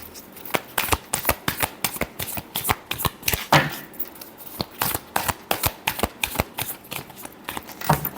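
Tarot cards shuffled by hand in a rapid run of crisp riffling flicks and slaps, close and fairly loud, continuing steadily with no talking over them.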